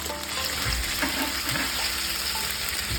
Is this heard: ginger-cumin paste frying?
yes